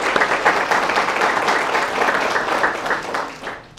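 Audience applause at a school district's State of the District 2019 event, a dense steady wash of many hands clapping that holds for several seconds, then tapers off toward the end.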